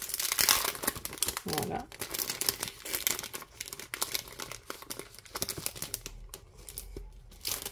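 A paper envelope being handled for a scrapbook travel journal, with crinkling, rustling paper sounds close up, heard under someone speaking French.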